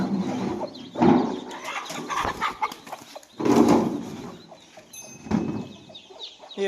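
A native hen clucks among her chicks in repeated soft bursts close by, with short pauses of quieter rustling between the calls.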